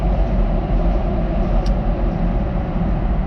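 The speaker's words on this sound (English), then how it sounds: "I've got the train passing by" A passing train rumbles steadily and loudly outside, a dense low roar with no talking.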